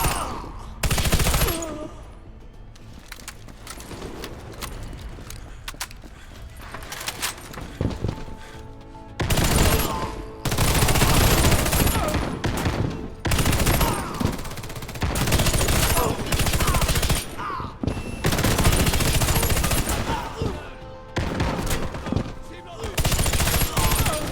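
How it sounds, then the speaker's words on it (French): Bursts of machine gun fire ring out in the shooter game Warface, loud volleys alternating with quieter stretches across the clip, with some voice and game sound underneath. "Mitrailleuse en service."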